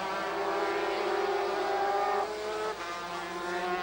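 Racing karts at Silverstone down the Club Straight into Brooklands, a loud buzzing two-stroke engine whine that shifts pitch as engines pass close by, with no talking.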